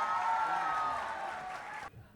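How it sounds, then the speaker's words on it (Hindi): Applause rises from a poetry-gathering audience welcoming the poet Manu Vaishali onto the stage: a steady, dense wash of clapping that holds for nearly two seconds and then cuts off abruptly. "जोरदार तालियों से इस्तकबाल कीजिए मनु वैशाली"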